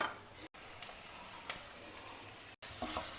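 Rice and vegetables are stirred in a sizzling pan, a steady close frying hiss with scraping stirs and two brief cut-outs, and no voices.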